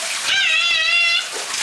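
Shower water rushes in a bathroom while young children bathe together; a high wavering child's squeal or cry rises in the middle over the spray, close and fairly loud.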